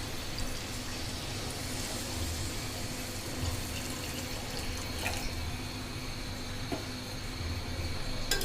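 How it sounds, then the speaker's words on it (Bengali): Water pours steadily into a pot of chicken cooking with mung dal, a continuous close splashing and gurgling stream with no talking and a few faint clinks. "আমি এখন এর ভিতরে পানি দিয়ে দেব।"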